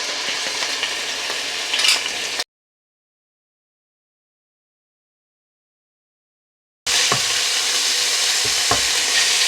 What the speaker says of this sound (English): then we're going to throw in the ginger and garlic and then we're going to fry them for about 2 to 3 minutes